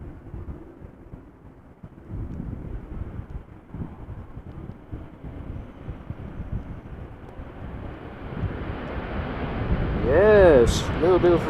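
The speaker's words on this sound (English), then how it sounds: "Yes, a little bit of reverser action." Embraer 190 landing at Amsterdam Schiphol in gusty crosswind, a distant low jet rumble under wind buffeting that swells into a louder roar of reverse thrust near the end.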